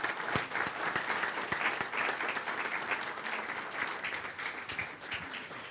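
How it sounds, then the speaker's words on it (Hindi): A Christmas Eve church congregation claps vigorously, a thick, continuous wave of many hands applauding loudly for several seconds with no speech over it, tapering slightly near the end. "खुदा के कलाम को, खुदा के खादम को जोरदार तालियों से"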